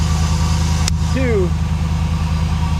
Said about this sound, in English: You get to hear my exhaust though, which is pretty sweet